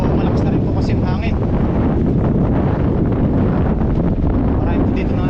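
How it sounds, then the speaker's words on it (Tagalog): Strong wind buffets the microphone at a fishing spot, a loud, steady roar of gusting noise filling the whole clip, with faint voices underneath. "Medyo malakas na rin po kasi yung hangin."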